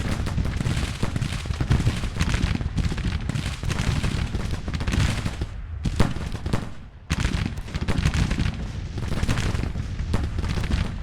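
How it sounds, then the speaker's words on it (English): Williams guns, Civil War rapid-fire cannons, fire in a dense, continuous barrage across a battlefield in the strategy game Grand Tactician, loud booms and cracks overlapping without pause, with one brief dip before the roar resumes. "they got Williams guns on the field. You can hear them firing"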